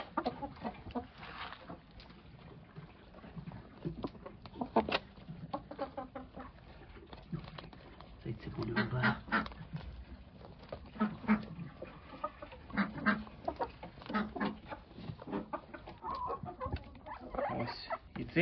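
Chickens cluck and murmur steadily at close range, with scattered short calls and some duck-like quacks mixed in, no talking.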